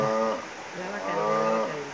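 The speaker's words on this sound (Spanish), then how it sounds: "la vaca, mira la vaca" A cow moos in a couple of long, drawn-out calls, fairly close, with a little background noise and no talking.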